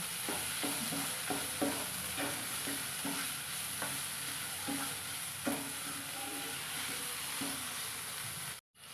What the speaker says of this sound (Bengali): একটু একটু নেড়ে ভাজা ভাজা করে নেব